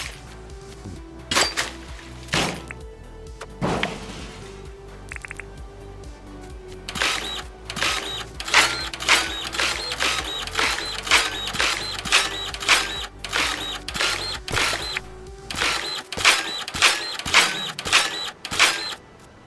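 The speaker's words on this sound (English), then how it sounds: "Lilo's saying she likes the noise of the dirt printer." A dirt printer machine in the farming game Dinkum runs with a rapid series of clicking, stamping pulses. The pulses come in bursts that speed into a steady rhythmic chatter, above a soft hum that cuts out near the end.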